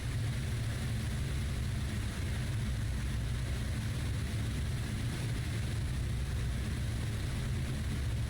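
Heinkel He-111 bomber engines at takeoff power in the IL-2 flight game, a steady loud drone of propeller engines rumbling low with broad hiss on top, continuous throughout without talk.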